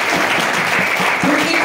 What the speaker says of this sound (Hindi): एक बार सुशील जी के लिए जोरदार तालियां।